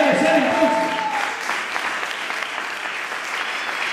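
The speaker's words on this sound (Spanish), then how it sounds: "Le quiere dar esas palmas al Señor, déselas como debe de ser entonces." Congregation applauding in a church during a sermon, dense clapping that is loudest at the start and continues steadily, with voices mixed into the clapping.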